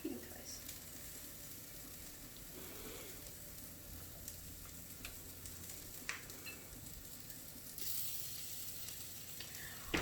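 Skewered hot dog kebabs sizzle steadily on a heating device, a continuous close frying hiss with faint clicks and small bumps throughout.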